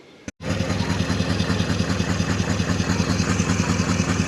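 Toyota Land Cruiser 200 Series engine breathing through a Manta stainless turbo-back exhaust, twin 3-inch pipes merging into a single 4-inch, kicks in after a brief gap and holds a steady, loud, throbbing low drone at idle, close by with no talk over it.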